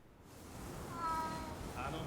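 A cat meows a few times in the video game Ghostwire: Tokyo, short tonal calls over a soft game-ambience bed at moderate volume.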